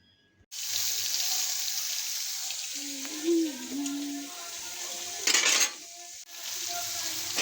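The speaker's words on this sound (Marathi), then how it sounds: "आपण कढईत तेल टाकून घेतलं, जिरी मोहरी टाकली" Cumin and mustard seeds crackle and sizzle steadily in oil in a wok, with a brief clink of utensils and a short metallic rattle midway.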